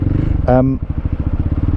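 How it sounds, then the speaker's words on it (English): A Honda CB125 motorcycle idles with a very low tick over, its engine pulsing in a steady close rhythm as though near stalling, with a brief tonal sound over it early on. "God, it's got such a low tick over, I feel like it's going to stall."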